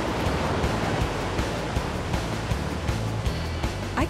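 Artificial waves at an inland surf park break and wash in a steady, dense roar of surf with rhythmic surges, close and continuous, no voices.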